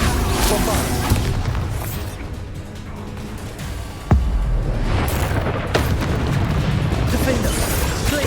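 Bombarda explosion spell cast in the Hogwarts Legacy video game, a single sharp blast about halfway through that rises above a dense, continuous bed of game combat effects and background music.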